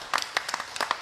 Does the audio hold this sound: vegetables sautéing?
no